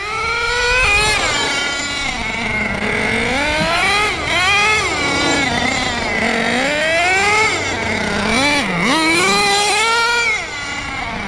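An HPI Racing Savage X4.6 nitro RC monster truck with a two-speed transmission revs its small nitro engine hard, screaming up and down in repeated loud, whining sweeps over about eleven seconds.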